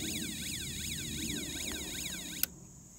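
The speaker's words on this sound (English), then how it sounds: "the alarm will sound to let you know." A Snap Circuits Extreme SC-750 electronic alarm beeps in a rapid, repeating warble, steady and fairly loud, then cuts off abruptly near the end with a click.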